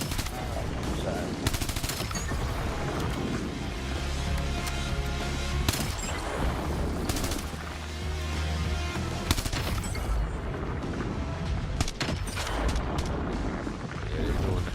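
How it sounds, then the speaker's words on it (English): Fourth of July fireworks crackle and boom continuously in dense, overlapping bursts, loud and unbroken throughout, like rapid gunfire, with voices mixed in. "Yeah, they're doing the fireworks."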